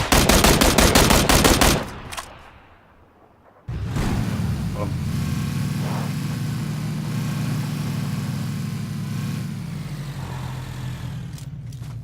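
Rapid automatic gunfire bursts loudly in the PUBG battle royale video game for about two seconds, then a vehicle engine hums steadily under the action.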